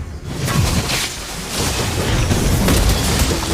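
A turret being destroyed in a video game, heard as a loud sustained rumbling boom and crackling explosion that fills the whole moment.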